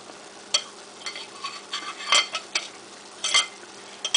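Swedish meatballs dropped one at a time into hot frying oil, giving scattered soft splashes and clinks over a steady low sizzle, close and fairly quiet.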